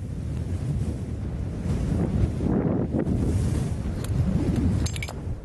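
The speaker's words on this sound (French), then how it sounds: "le vent." Wind blows across the open Jhimpir desert in Pakistan, a steady rough roar buffeting the microphone for several seconds with faint gusty swells and no voices.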